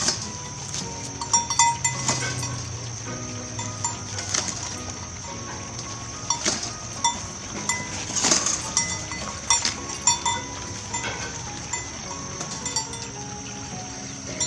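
Goats call in short, scattered bleats over a steady background hum, several close calls rising at intervals among softer murmuring sounds, with no talking.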